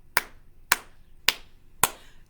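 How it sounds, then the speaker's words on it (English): Four separate claps ring out close and evenly spaced at a toddler group time, each one crisp and brief, with near silence between them. "let's clap for Mila"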